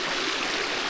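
Water pours over a mini waterfall at a campsite in Davao Oriental, a dense, steady rushing wash close by with no voices.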